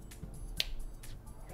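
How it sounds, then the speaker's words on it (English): A single sharp finger snap rings out near the middle, close and crisp, standing alone over faint background noise while a mobile kart-racing game is being played. "you have to time your finger snap because it listens and then goes through the pipe"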